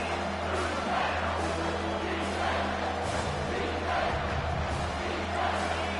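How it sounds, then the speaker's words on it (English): A steady, dense roar rises from a packed stadium crowd at a Clemson vs Michigan football game on third down, loud and continuous with swelling surges and no clear individual voices. "Decibels rising as the crowd gets behind this defense on 3rd down"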